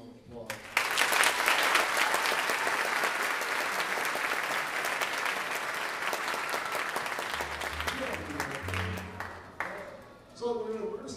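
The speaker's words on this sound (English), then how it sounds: "I wish you'd give him a round of applause" A jazz concert audience gives loud, full applause to the bass player, a sustained roar of clapping that tapers off near the end, where a voice and instruments briefly come in.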